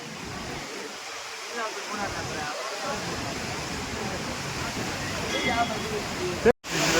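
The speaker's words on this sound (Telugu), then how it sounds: "this beautiful water fall, how the water is coming, it's mind blowing" A waterfall at Kodaikanal roars with a constant broadband rush of falling water, loud and close, with a brief interruption near the end and a voice audible over it.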